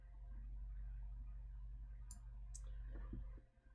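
Computer mouse clicked and dragged, two or three tiny crisp clicks over a faint steady hum, with no talk.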